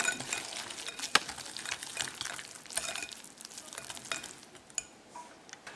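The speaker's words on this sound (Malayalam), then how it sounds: "നന്നായി കലക്കി കൊടുക്കുക." A spoon stirs a loose wheat-flour batter for Kerala banana fritters, with close, steady scraping and wet sloshing and an occasional sharper tap against the bowl. No one talks over it.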